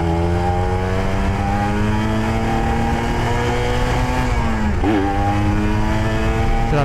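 A motorcycle engine revs as the throttle is opened a bit wider in a housing complex, a steady loud drone rising in pitch then dipping briefly before settling, heard close and continuous with no talking.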